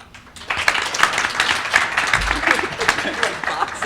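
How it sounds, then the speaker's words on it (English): A panel audience breaks into applause for a speaker, a dense patter of many hands starting sharply after a short quiet moment and continuing steadily, fairly near. "Please give him a huge applause"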